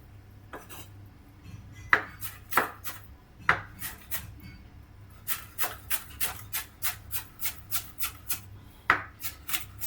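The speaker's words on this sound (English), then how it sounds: "Always remember to use cat's paw when you're chopping veggies." A knife chops onion and vegetables for ratatouille on a board in a home kitchen. Sharp, clear cuts come in bursts, first spaced out and then in a quick, steady run, close and alone.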